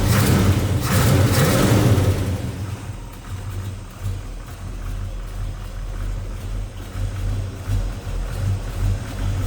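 A 1970 Chevrolet Chevelle two-door hardtop V8 with Edelbrock intake, HEI ignition and four-barrel carburetor revs in a short burst, then settles to a steady low idle rumble, close and loud.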